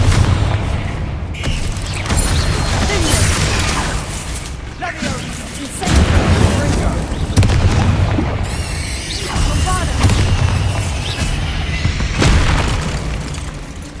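Spell blasts in Hogwarts Legacy burst out one after another, heavy booming impacts and crackling fire bursts recurring in loud waves, with shouted incantations and game sounds between them.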